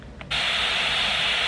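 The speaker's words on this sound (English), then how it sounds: "static" Static from a baby sound machine switches on abruptly after a brief click, then holds as a steady, loud hiss with no pauses and no voices.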